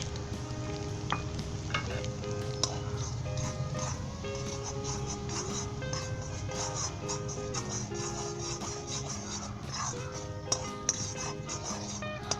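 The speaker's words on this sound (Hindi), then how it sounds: "दोस्तों इसमें हम सूजी डालेंगे और इसे अच्छे तरीके से भुनेंगे।" Semolina being stirred and roasted in desi ghee in a pan for sweet suji halwa, giving a steady close sizzle with continuous scraping stir strokes and occasional spoon clicks throughout.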